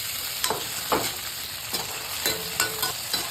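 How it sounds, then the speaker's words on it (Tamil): Onion and tomato sautéing in a pan for a pepper fish curry, a continuous sizzle broken by several distinct stirring scrapes of a spoon against the pan, close up with no voices. "ஸோ வெங்காயம் தக்காளிலாம் நல்லா வதங்கி வந்துடுச்சு"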